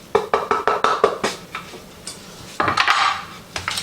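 A spoon stirs chicken penne in a pot with lemon zest and parsley, giving a quick run of sharp metallic clinks and scrapes, then a pause before a second burst of busier clatter, close and clear with no talking.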